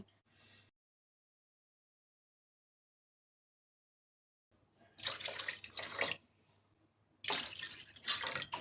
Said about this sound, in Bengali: এখন চার কাপ চিনির সাথে পাঁচ কাপ দিব পানি